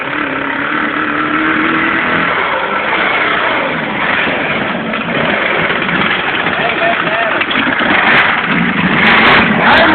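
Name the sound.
Kawasaki ZX10 motorcycle engine revving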